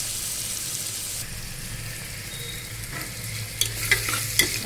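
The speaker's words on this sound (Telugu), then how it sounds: "మాడిపోకుండా కలబెట్టుకోండి" Onions and curry leaves fry in a pan with a constant soft sizzle, then a few sharp scrapes and clinks of stirring near the end; nobody talks.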